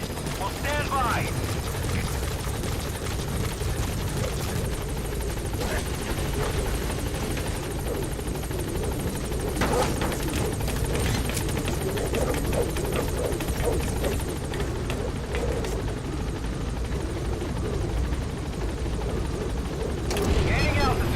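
The Pequod helicopter in Metal Gear Solid V lands and lifts off, its rotor thudding loud and continuous throughout, with radio voices talking over the engine roar.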